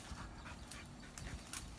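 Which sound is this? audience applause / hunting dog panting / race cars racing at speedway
hunting dog panting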